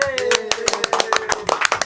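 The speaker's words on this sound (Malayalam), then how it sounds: "എല്ലാവരും കൈയടി എടുത്തേ" An audience clapping at a gathering, with irregular claps from several people in quick succession, fairly close, while a voice speaks over it.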